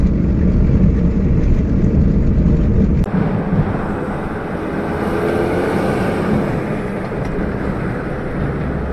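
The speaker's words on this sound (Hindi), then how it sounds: "तो अभी स्टार्ट कर लेते हैं।" A cab car's engine starts and the car drives off, giving a loud, steady low rumble that shifts in tone partway through, with no talking.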